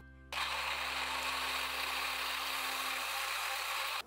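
A blender starts abruptly and grinds chili seasoning with soaked dried chilies loudly, a steady whirring roar running continuously to the end.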